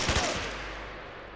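Gunfire from a bandit in the game S.T.A.L.K.E.R. Anomaly: a quick burst of two or three close shots at the start, followed by a dense, sustained rumbling roar that slowly fades.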